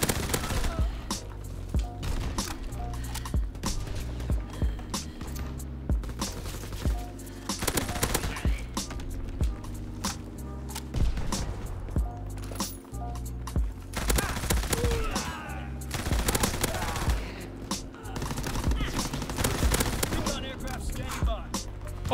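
Rapid-fire Orso submachine gun in Call of Duty WW2, firing loud, dense bursts almost without pause over a game soundtrack, close and dominant throughout.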